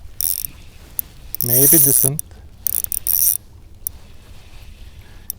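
Bursts of rapid mechanical clicking from a KastKing Kestrel fishing reel's drag, with a brief voice speaking between the clicks.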